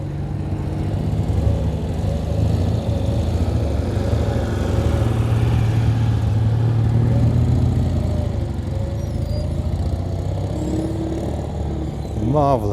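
An early Citroën 2CV with friction dampers that need adjusting bounces across a field, its small engine droning steadily and fairly close throughout, with people talking over it.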